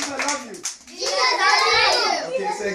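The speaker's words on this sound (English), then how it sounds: "clap for Jesus. Clap for Jesus" Small children clap their hands at a church dance with a few quick, sharp claps near the start, mostly masked by loud children's voices chanting and talking throughout.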